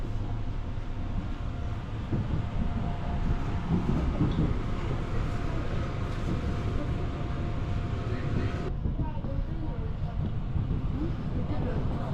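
A subway train in South Korea heard from inside the car while riding, a loud steady rumble and roar throughout with faint talk mixed in.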